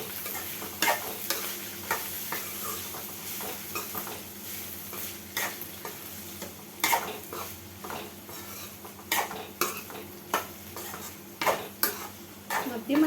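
Telangana-style green beans frying in oil in a pan, a soft sizzle beneath repeated clicks and scrapes of a spoon stirring at an irregular pace, close by, no voices.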